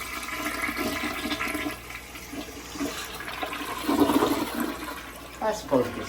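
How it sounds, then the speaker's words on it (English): A hotel bathroom toilet flushes close by. The steady rush of water swells toward the end, then settles into refill gurgles, with no talk over it. "Give it a quick flush."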